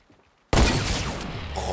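Gunfire in the video game Fortnite: a sudden loud burst of shots after a short quiet moment, then a dense rattle that keeps going to the end, with no talking.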